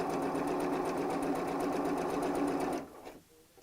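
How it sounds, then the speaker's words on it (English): A sewing machine stitches scrappy patchwork fabric for a bag, running at a steady close hum with a fast stitching rhythm for nearly three seconds before stopping abruptly. "So let's bring the machine in and just start to sew."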